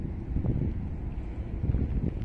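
Wind gusts along the Persian Gulf shore on a March morning, producing a low, buffeting rumble across the microphone that rises and falls continuously, with faint rustling mixed in.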